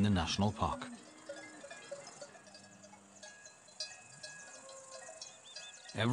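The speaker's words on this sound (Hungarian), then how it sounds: "Marhák, birkák és kecskék ezrei töltik a nyarat a Nemzeti Parkban." Sheep bleats and ringing cowbells from cattle, sheep and goats grazing in summer in Austria's Hohe Tauern National Park in the Alps, faint and scattered, with narration at the start and end.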